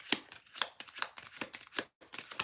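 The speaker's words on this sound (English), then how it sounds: "Those cards sound like a teletype." Tarot cards are shuffled in quick bursts, a series of crisp riffling snaps and flicks spaced irregularly, close and fairly quiet with no talk.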